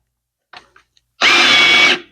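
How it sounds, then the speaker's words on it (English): A few faint clicks, then a power drill driving screws into laminated wood for a boat seat whirs in one short, loud burst for under a second before stopping. "so we may have to get a drill out."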